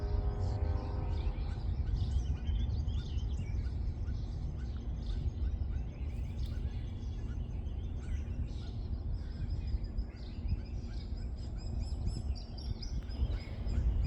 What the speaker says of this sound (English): Just listen to the birds and nature.